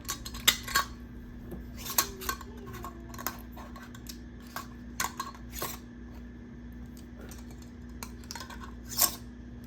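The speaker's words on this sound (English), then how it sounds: "screw the bands on, fingertip tight" Metal bands screwed fingertip-tight onto glass canning jars of sun-dried tomatoes and garlic in oil brine: scattered light metallic clinks and scraping twists, close and fairly quiet over a faint steady hum.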